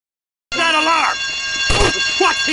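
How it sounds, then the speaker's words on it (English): An electronic alarm blares in GTA Vice City, a steady ringing tone starting abruptly and continuing loudly, with a brief burst of other game sound partway through. "Alarm!"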